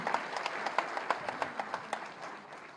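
Scattered applause from an audience at a tourism ministry event, fairly faint and distant, with individual claps rising out of a steady wash of clapping.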